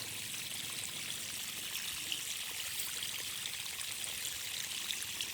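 Water from a pipe fed by a tank during a sprinkler test in a solar-powered well setup, a continuous even hiss and splash of flowing water, steady and moderately close, with no talk.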